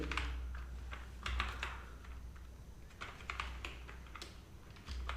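Rapid, uneven keystrokes on a computer keyboard while code for a CSS transition effect is typed in, close and clear with a steady low hum underneath.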